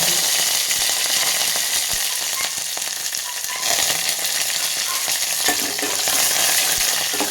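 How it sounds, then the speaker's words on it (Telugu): Curry leaves crackling and spluttering in hot tempering oil with mustard seeds for a raw brinjal pulusu, a loud, dense, continuous sizzle close up with sharp pops throughout and no talk. "అవి కొంచెం వేగిన తర్వాత కొంచెం ఫ్రై అయిన తర్వాత ఇదిగోండి కరివేపాకు"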